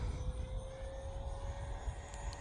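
An E-flite Viper 70mm electric ducted-fan RC jet flies in to land, its steady high whine and rushing air heard faint and distant, with no talk.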